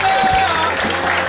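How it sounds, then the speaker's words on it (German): Applause from a concert audience at a rock school Christmas jam rises as a dense wash of clapping that is steady and fairly loud. It lasts briefly. "Ja, genau, Applaus hier."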